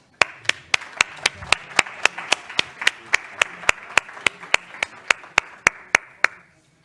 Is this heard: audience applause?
yes